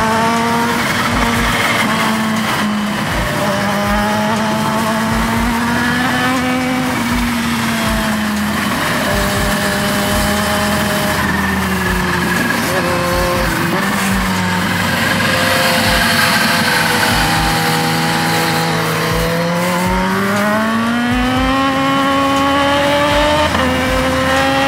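A Harley-Davidson and a Kawasaki ZH2 race along twisty roads, their loud, close engines holding a continuous howl that rises and falls in pitch with each throttle change and gear shift.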